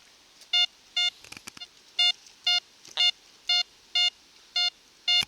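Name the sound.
Pirate Flibustier metal detector beeping on a large target at 50 cm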